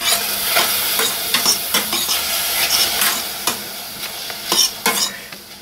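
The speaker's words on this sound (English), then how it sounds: "and then I'm just going to mix it" Cooked mushrooms stirred with a metal utensil in a metal pan, giving repeated close scraping and clinking strokes over a steady background sizzle of frying, with no talking.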